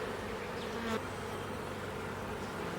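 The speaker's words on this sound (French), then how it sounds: "On peut voir que cette colonie est bien peuplée." Dense honeybee colony buzzing loudly and steadily as a crowded hive frame is lifted out, a continuous close hum with no voices.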